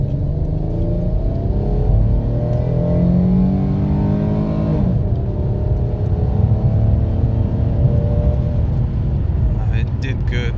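Car engine accelerating with an ignition misfire, a loud steady rumble rising in pitch over several seconds and then dropping back, uneven throughout, with a few clicks near the end.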